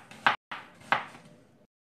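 Onions being chopped on a cutting board in a home kitchen, two sharp knife strikes about two-thirds of a second apart, close and fairly quiet.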